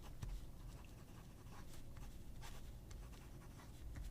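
A Nexus fountain pen with a dry nib scratches across paper in short, faint, close strokes, a quiet scraping with slight irregular bursts as the nib drags.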